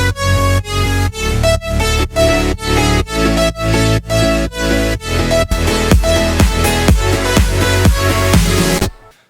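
A progressive pop drop built in Ableton hits hard: a punchy four-on-the-floor kick thumps on every downbeat under clap, snare, hi-hats and bright saw chords, loud and dense for about nine seconds before cutting off abruptly.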